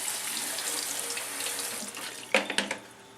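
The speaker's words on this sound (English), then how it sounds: "then rinse them under some water." Tap water runs steadily into a colander of fresh strawberries being rinsed in a kitchen sink, a soft continuous hiss that ends in a few brief splashing bursts near the close.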